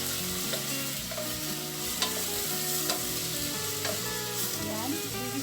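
Chicken pieces sauté with chopped tomatoes in a hot pan for tinolang manok, giving a continuous close sizzle and frying hiss broken by occasional clinks and scrapes of stirring.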